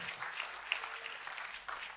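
A church congregation claps during a worship service, a fairly faint, continuous patter of many hands over a short stretch with no talk.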